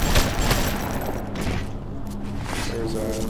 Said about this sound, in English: So it's a rocket turret. Rocket turrets hurt a lot.